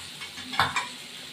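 Boiled young jackfruit pieces hit a hot pan of oil with a brief stir and sizzle, one short scraping burst near the middle of a quiet moment, close and moderate in level.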